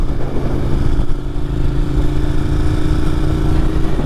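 A Ducati Monster 1200S motorcycle runs on the road as it picks up speed, its engine a loud, close, steady drone with a faint rising tone and no pauses.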